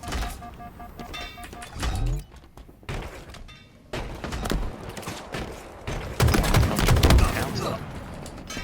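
Grenade blasts and bursts of gunfire in a competitive shooter match at a university tournament, with dense staccato shots and thumping explosions that build toward a loud barrage, mixed under talk and game sounds.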